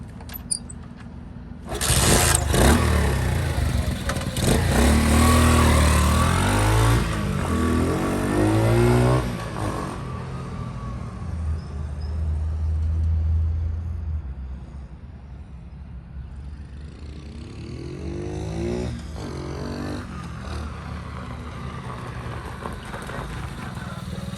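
Rupp minibike engine running up through the gears, revving loud and close early on, then settling into a lower, steadier drone as it pulls away and idles along.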